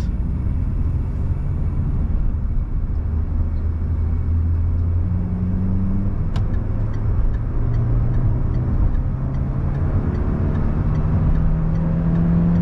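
A 1.6-litre car engine pulls steadily under acceleration, a continuous low rumble with rising tonal bands heard from inside, loud and unbroken with no talking.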